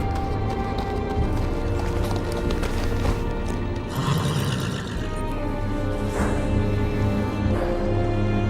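A horse gallops near the Wall at Castle Black in a Game of Thrones video game. Its rhythmic hoofbeats ring close and clear over a sustained orchestral score.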